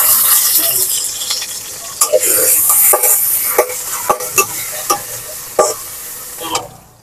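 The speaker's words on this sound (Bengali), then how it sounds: "তো এই জন্য খুব ভালো করে ভেজে নিচ্ছি" Check bag fish fries loudly in a pan, a bright constant sizzle broken by repeated sharp clinks and scrapes of a spatula turning the pieces, fading near the end.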